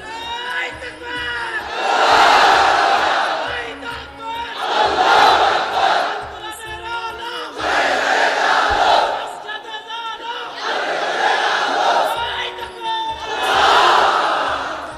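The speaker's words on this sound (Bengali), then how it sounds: "তাকবীর পড়েন তো দেখি, আল্লাহর নামে পড়েন, লিল্লাহে তাকবীর।" A large gathering at an Islamic sermon answers in unison with a takbir chant, five powerful swells of massed voices rising and falling in a steady rhythm, with a preacher's voice leading between them.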